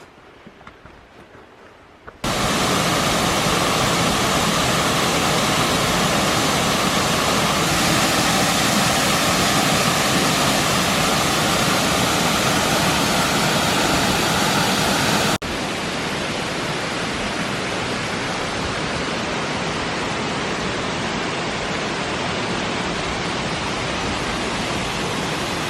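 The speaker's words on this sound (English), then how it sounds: "let's go check out Lone Creek Falls" Lone Creek Falls, a waterfall along the Appalachian Trail, gives off a loud, continuous roaring rush of water close by, starting abruptly after a quiet opening and holding steady throughout.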